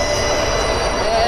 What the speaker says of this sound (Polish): to jest metro w Afryce